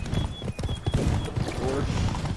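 Horse hooves clip-clop in the video game Witcher 3, a steady trotting rhythm heard close under continuous game audio while someone talks over it.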